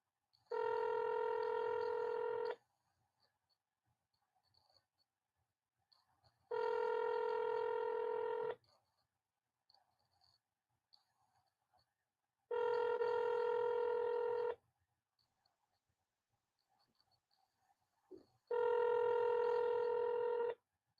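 Telephone dialing tones sound in four evenly spaced bursts, each about two seconds long with pauses of about four seconds between them. Each steady electronic tone rings out clearly against near silence.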